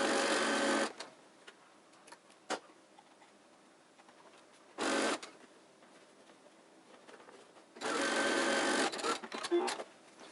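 A sewing machine stitches a cloth face mask in three loud, rapid bursts of whirring stitching, separated by quiet pauses with small clicks.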